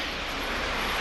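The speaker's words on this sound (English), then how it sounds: "The Horten HO-18 jet bomber of the Luftwaffe's best bomber wing takes off on the most important mission of World War II." Broad, steady jet roar of a Horten Ho-18 jet bomber taking off at dawn, a continuous loud rushing drone that holds constant through the short moment.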